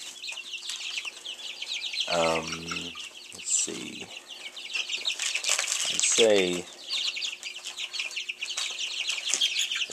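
Young chicks, Ameraucanas and Speckled Sussex, cheep and cluck continuously close by, with a few brief louder calls and wing flutters, while a person speaks briefly.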